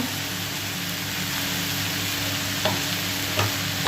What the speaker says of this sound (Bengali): চলো এবার নেড়ে নিই ভালো করে নেড়ে মিশিয়ে দিয়ে নিই